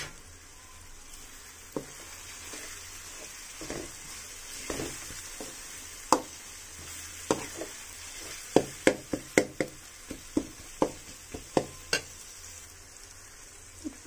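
Masala with curry leaves frying in hot oil for a Telugu-style mutton pulusu, a steady sizzle broken by sharp spoon scrapes and clinks against the pan that grow busier toward the end, close by with no talk.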